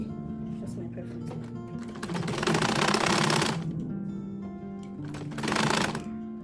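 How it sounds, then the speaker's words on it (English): A sewing machine stitches a jacket collar in two bursts, a steady rapid mechanical whir that starts and stops. Between the bursts are quieter pauses with low hum and faint handling noise. "So after sewing the collar"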